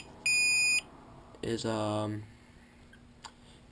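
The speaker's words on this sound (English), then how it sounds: "That was the controller beeping." A short burst of high electronic beeping from an RC car controller, a steady bright tone lasting about half a second, followed by a brief voice and then quiet.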